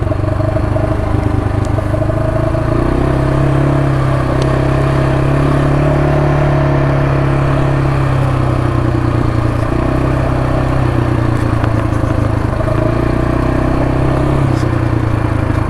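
A new Kawasaki 300 quad with a CVT transmission on an easy break-in ride, its engine droning loud and close with no gear shifts, the pitch rising and settling in smooth surges over a rattling ride.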